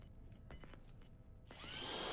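A power drill in a video game bores into a door lock, starting as faint whirring bursts and rising into a loud, steady, high-pitched grinding whine over the last second.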